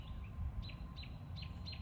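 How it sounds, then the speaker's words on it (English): Small birds chirp outdoors in a park, a few short high calls repeating at roughly even intervals over steady low background rumble, fairly faint and with no talking. "Oh, bird chirps."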